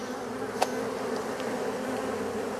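Honey bees buzz continuously at an open hive, a dense steady drone close by with one brief sharp tap early on.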